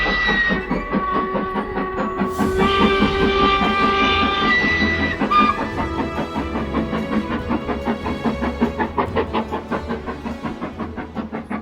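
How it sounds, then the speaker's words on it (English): The Jacobite heritage steam train crosses a viaduct in the Scottish Highlands, a steady rhythmic clatter of wheels on rails, a whistle sounding over the chugging, loud and continuous throughout. "a heritage steam service running between Fort William and Mallaig"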